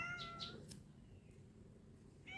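A cat meowing in a neighbouring room, a couple of short faint meows at the start and another at the end, heard at a distance over quiet background noise.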